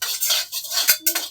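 A utensil scrapes and clinks against a cooking pot in a few quick stirring strokes, close and fairly loud, with no voices.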